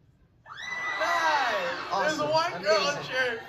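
A girl in the audience at a live show screams and cheers, a high, wavering voice rising loudly after a brief silence and continuing with excited shrieks over faint crowd noise.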